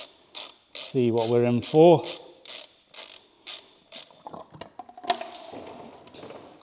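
A ratchet turns a 36 mm socket beneath a VW Golf R32, clicking in an even, rapid rhythm up close; someone speaks briefly over the clicks partway through.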